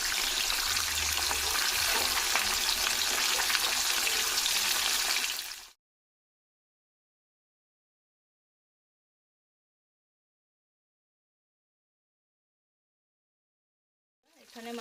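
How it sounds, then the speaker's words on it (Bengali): Tengra fish fry in a pan over a high gas flame, a loud, even sizzle lasting several seconds before cutting to silence. "এখানে মাছগুলো ভালো করে ভাজা হতে থাকুক।"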